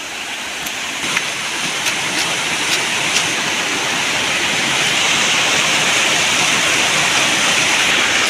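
The Jalamunda waterfall in Koraput, a deep waterfall among big rocks, gives off a loud, continuous roaring rush of falling water with no voices over it.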